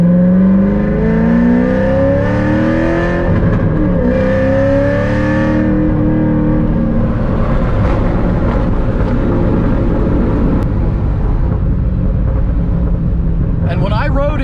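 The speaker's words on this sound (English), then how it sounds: "No, that's burbling. That sounds good." A Corvette ZR1 with a modified flame-shooting exhaust rumbles and burbles loudly nearby, a rev sweeping up and settling into a steady deep idle burble, with voices talking over it.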